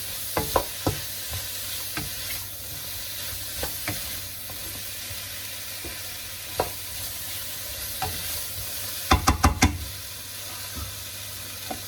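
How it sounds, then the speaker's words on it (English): Prawns and noodles stir-frying in a pan, a steady sizzle broken by a series of sharp utensil scrapes and clacks, with a quick cluster of knocks near the end. "I'm going to continue to cook through as I'm stirring in the noodles"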